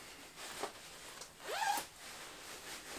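A zipper on a motorcycle jacket (Vanucci VAJ all-season jacket) is pulled open in a few quick, quiet rasping strokes, close up and with no talk.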